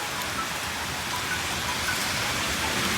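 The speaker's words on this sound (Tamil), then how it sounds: "ஆனால் சரியான மழை." Heavy rain pours down during Cyclone Fengal in Chennai, a dense, steady hiss of downpour with no break and no voices.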